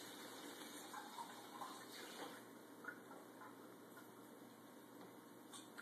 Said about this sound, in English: Let's get another glass of tap water.